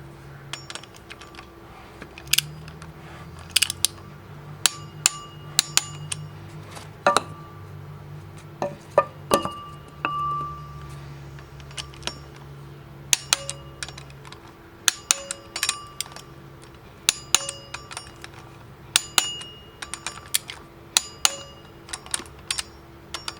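Bolts being tightened to 25 foot-pounds on a Camaro clutch during a T5 transmission rebuild: a sparse, irregular run of sharp metallic clicks and ratchet ticks, some clustered, over a low steady hum with no talk.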